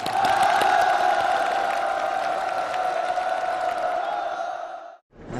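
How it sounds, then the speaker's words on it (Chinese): A studio audience at a military talent show applauds a contestant with loud, sustained clapping and cheering over a steady tonal backing, holding for about five seconds before cutting off abruptly. "掌声送给明志。"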